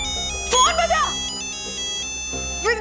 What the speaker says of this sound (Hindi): प्लीज प्लीज फोन बजा।